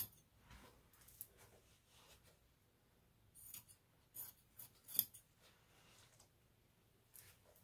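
Scissors trim fabric while gathers are draped, giving faint, quiet snips and soft rustling scattered in short bursts, with a few louder cuts near the middle.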